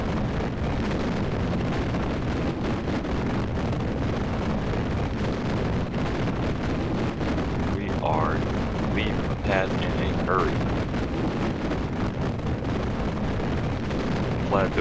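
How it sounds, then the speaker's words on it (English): Solid rocket boosters firing at liftoff in Kerbal Space Program with the Realism Overhaul mods, a continuous, loud, rumbling roar that holds steady throughout, with faint higher warbling noises briefly over it midway. "Glad those solid rocket boosters have stopped failing on me."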